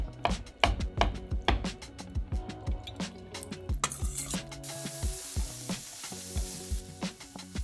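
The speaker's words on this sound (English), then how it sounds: "We're just going to fry up some tofu in a pan, easy peasy." Tofu frying in a pan, a steady sizzle broken by repeated sharp clatters and scrapes as it is stirred and moved, close and fairly loud with no voices.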